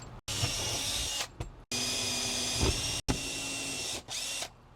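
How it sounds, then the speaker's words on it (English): A power drill bores holes in a truck camper roof during a solar panel installation, four close, loud whirring bursts separated by short pauses. "I'm just drilling holes for now."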